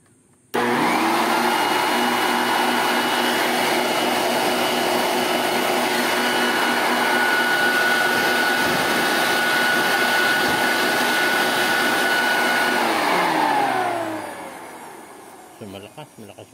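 An Ozito BLV 2402 electric blower vacuum runs at full power, a steady loud whooshing motor roar that starts abruptly and winds down near the end, with no voices over it.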